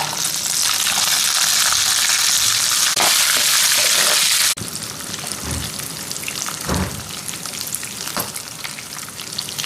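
Cumin, toor dal and green chillies frying in hot oil for a coconut chutney, giving a loud steady sizzle throughout that drops a little partway and continues with soft crackling and stirring.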